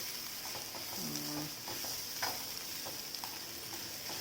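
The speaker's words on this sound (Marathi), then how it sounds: "तर हे असं थोडं लाल तिखट मिक्स करून घ्यायचे" Red chili powder stirred into onions frying on medium heat, a steady close sizzle with soft scraping strokes of a spoon throughout and no talking.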